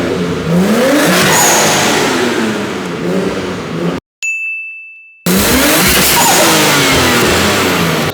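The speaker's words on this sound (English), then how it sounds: "That's turbo spooling." A turbocharged car engine revs and accelerates loudly close by with a rising whine, then cuts to a brief near-silent gap with a ringing ding before the revving engine returns just as loud.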